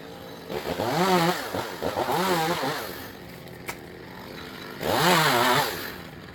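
Chainsaw cutting the top off a tree, heard as two loud bursts of revving engine with a pause between, close by and without talk.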